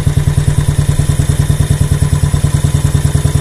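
A Royal Enfield Classic 500 motorcycle engine idles at about 1080 rpm, a steady, loud, close thumping beat with a fast regular pulse and clattery mechanical overtones throughout.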